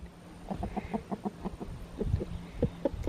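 A chicken clucks in a rapid run of short, close, fairly soft calls while it pecks at bugs in a farmyard with goats nearby.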